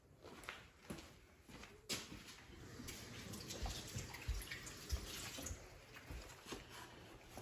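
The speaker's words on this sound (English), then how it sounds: "excuse me real quick while I wash my hands" Tap water running at a sink while hands are washed after making fry bread, a steady faint rush with small splashes and clunks throughout, no talking.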